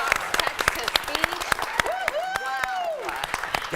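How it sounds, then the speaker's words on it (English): A studio audience applauds a talk-show introduction with a dense, steady patter of clapping, while a voice speaks over it partway through. "That was quite the round of applause."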